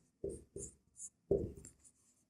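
Writing during a class 10 statistics maths lesson, with three quick, close scratchy strokes, a short pause, then a longer scrawl that tapers off, all with no speech.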